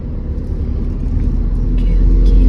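A manual car pulls away as the driver releases the clutch and accelerates on a public road, its engine rumble steady and close and rising slightly in loudness toward the end.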